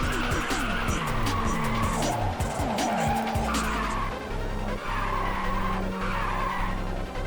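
A race car in the PSP game Ridge Racer 2 roars around a track, its engine revving up and down repeatedly while tires squeal and skid through corners, loud and continuous with no talking.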